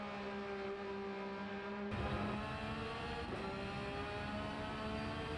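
A Porsche GT3 R 992 race car engine revving hard in Gran Turismo 7 at Laguna Seca, a steady loud drone with a sharp rise as it accelerates midway, no voices.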